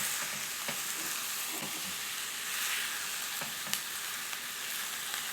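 Pork shoulder sizzles and spits in a hot pan for a ground soybean stew, a steady bright frying hiss with small crackles and occasional stirring clicks, fairly quiet and close.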